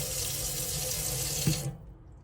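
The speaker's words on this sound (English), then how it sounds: "go to your hot side like that, and just make sure that the water's coming through like this" Water gushes steadily from the hot tap of a caravan sink, a loud continuous hiss under a low pump hum, then cuts off abruptly near the end.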